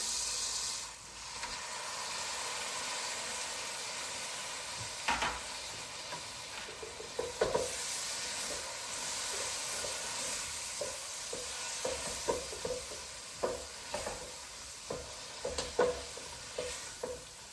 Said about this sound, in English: I'm going to add the tomatoes in now